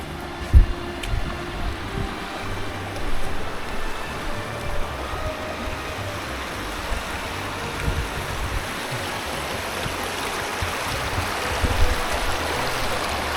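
Water rushes steadily through a gold prospecting sluice on a creek in Cape York, a continuous broadband wash with small splashes, fairly close and uninterrupted, with no talking.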